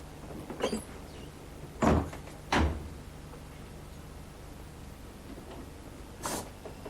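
Several separate thuds and rattles of a train door being manually opened and closed, two firmer knocks in the middle, spaced apart against a quiet background hum.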